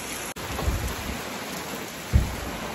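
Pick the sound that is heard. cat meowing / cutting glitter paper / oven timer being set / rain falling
rain falling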